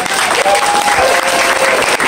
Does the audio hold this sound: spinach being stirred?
no